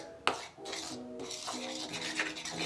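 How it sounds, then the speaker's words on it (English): Whisk or spoon scraping and clinking against a bowl while flour, baking powder and salt are mixed for vegan pumpkin spice donuts, with an irregular run of rubs and light metallic taps, close and fairly quiet. "We're gonna mix the dry ingredients there."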